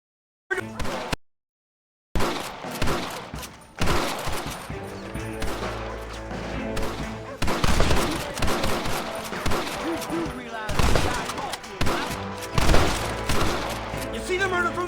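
Rapid gunfire from the video game Red Dead Redemption during a bank shootout, dense repeated shots and bursts after a brief silence, loud and continuous, with game dialogue and voices mixed in.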